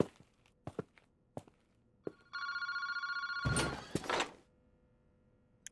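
A phone-booth telephone rings inside the video game PARANORMASIGHT, one loud close burst of bell ringing, preceded by scattered footsteps and thunks and followed by a heavy clatter as it stops.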